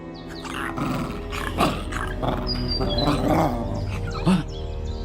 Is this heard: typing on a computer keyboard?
no